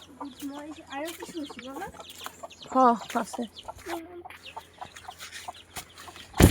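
Chickens cluck in short, repeated bursts close by in a backyard vegetable garden, with one louder squawking run in the middle; a person speaks briefly at the end.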